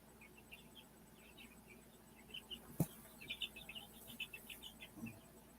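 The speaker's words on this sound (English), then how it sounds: "I don't know if you can hear baby chicks over here or not. They're chirping away." Baby chicks chirping faintly in the background, a scatter of small high peeps coming and going through a steady low hum.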